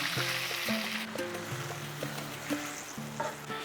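Capsicum and green chili paste sizzles steadily in a hot pan with spices for a vegetarian soybean dish, a continuous close frying hiss under soft background music, with no speech.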